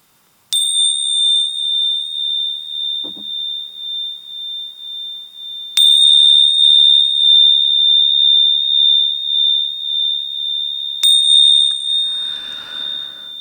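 Hammered metal bells are struck three times at even intervals, and each strike rings with a bright, sustained tone that carries on to the next one, with quiet rustling near the end.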